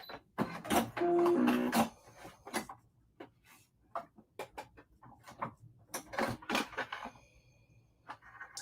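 A sewing machine stitches in short mechanical bursts, whirring runs and clicks broken by pauses, close and moderately loud, with no talking.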